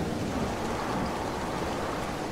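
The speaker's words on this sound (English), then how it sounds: "But it's raining." Steady rain falls in the desert level of the game Sonic.exe The Destiny, a dense, continuous hiss of drops with no voices, even and unbroken throughout.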